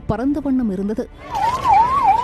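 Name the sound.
ambulance sirens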